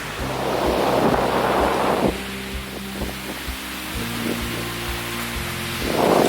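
Gusty typhoon wind roars in a small garden, loud rushing bursts at the start and end with calmer stretches between, where a low steady hum lingers underneath.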